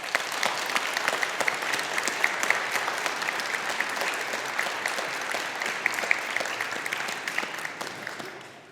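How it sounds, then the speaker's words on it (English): A graduation audience at a 2021 Faculty of Humanities and Social Sciences ceremony gives a full round of applause, dense and sustained clapping from a large crowd that tapers off toward the end. "I'd like to invite our graduates to acknowledge that support by a round of applause."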